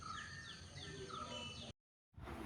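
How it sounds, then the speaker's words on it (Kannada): Faint birds chirp and call in the distance over a low steady background, then the sound cuts out briefly. "ಹಕ್ಕಿಗಳ ಚಿಲಿಪಿಲಿ ಎಲ್ಲ ಕೇಳ್ತಾ ಇರಬಹುದು"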